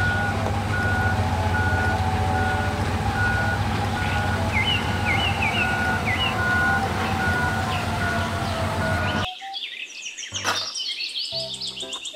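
A toy mining truck gives off steady, evenly spaced reversing beeps over a dense electronic whir and chirping tones, then cuts abruptly to a short burst of different electronic tones and jingles near the end.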